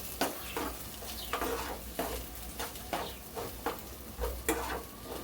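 Okra fry being stirred in a pan after turmeric and chili powder go in, with repeated scraping strokes of a spoon against the pan over a steady low sizzle, nearby and moderately quiet, no talking.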